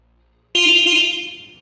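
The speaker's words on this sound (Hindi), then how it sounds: "हार्ली डेविडसन के हिसाब से ये हॉर्न थोड़ा डिसेंट इनफ है, पर ठीक ठाक है।" A Harley-Davidson X440 motorcycle horn gives one loud, steady honk of about a second, starting abruptly after a brief silence and cutting off sharply.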